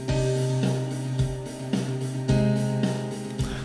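Four layered keyboard parts play chords together in a steady rhythmic pattern, full and moderately loud, with regular accented hits about every half second.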